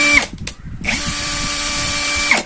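A Kamolee brushless 13mm cordless drill running at speed 1, spinning up with a brief burst, then a steady loud whine held for about a second and a half before winding down, with no talk.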